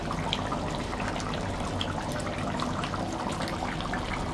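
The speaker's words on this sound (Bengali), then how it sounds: "ঝোল দিয়ে নিছি।" Broth is poured into a pot of curry while it cooks, giving a steady watery pour and bubbling that runs continuously and close throughout.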